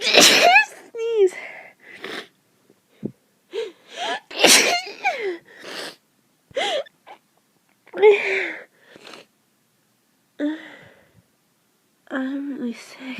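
Repeated sneezes from someone with a cold, several sharp bursts spread across the stretch and mixed with sniffs and sick-sounding vocal noises, close and loud.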